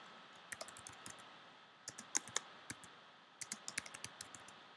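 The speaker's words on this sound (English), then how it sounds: "Then I can use my delete key up in the corner of the right corner and take away that A" Keys on a computer keyboard are pressed in quick clusters of crisp clicks, including taps on the delete key, close and fairly quiet with short pauses between bursts and no talk.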